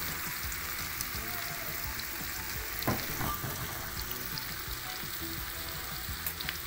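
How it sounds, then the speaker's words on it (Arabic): Garlic frying in a pan over an outdoor clay stove, a dense steady crackling sizzle like rain on a surface, with a brief stir near the middle, close and continuous without speech. "نحط التوم كده على السريع تطلع ريحه."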